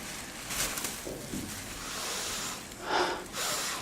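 A few deep, breathy sniffs and snorting inhales, airy and close, coming in separate bursts with brief pauses between them.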